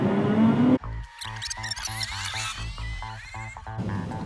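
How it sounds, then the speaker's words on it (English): A racing opponent's car spinning its wheels in a burnout at the start of a race against a Volvo XC90 T8, heard as a rapid pulsing engine roar with squealing tires, loud and close, after a voice that cuts off. "just heard the guy I'm racing against give it a lot of wheel spin. Decent burnout."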